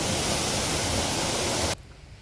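A loud, steady rush of falling water pours down at an artificial waterfall built in a former mine, then cuts off abruptly near the end.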